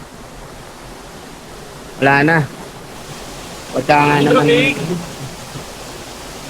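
Water from a low mountain stream over mossy rocks in Atok, Benguet gives a steady, soft broadband rush through the whole stretch, with two short bursts of someone talking over it.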